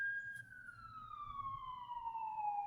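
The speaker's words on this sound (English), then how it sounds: "Okay, that was an ambulance" A passing ambulance siren drifts in from outside: one long, steady wail that slowly falls in pitch across the whole stretch, moderately loud over a low background rumble.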